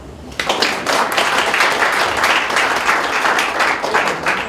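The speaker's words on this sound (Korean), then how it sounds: "박수 한번 주세요" A crowd at a high school taekwondo poomsae team's founding ceremony in Busan breaks into loud, close applause after a brief quiet moment, sustaining thick clapping with slight swells until the end.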